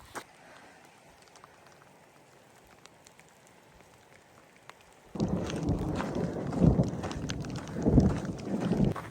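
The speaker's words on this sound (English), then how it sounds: "Do not like going over a pass in a thunderstorm" Rain begins pattering hard on a mountain pass during a thunderstorm, starting quietly with light wind and then swelling into a steady loud downpour with gusts buffeting the microphone.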